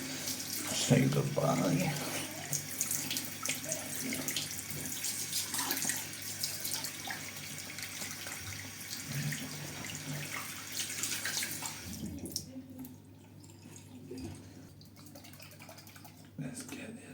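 Water runs steadily from a tap while soap is rinsed off in a sink, a continuous close hiss and splash that drops away near the end, with a person talking over it early on.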